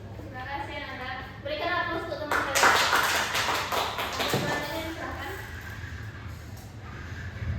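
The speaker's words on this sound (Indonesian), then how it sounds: "Berikan aplaus untuk teman kalian" A classroom of students applauds a group of classmates after their presentation, with a burst of brisk hand clapping in the middle, amid children's chatter and speech before and after.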